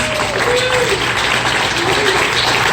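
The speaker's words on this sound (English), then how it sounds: "Please give yourself one more big round of applause." Theatre audience gives a round of applause, a loud, continuous roar of clapping filling the hall with faint voices mixed in underneath.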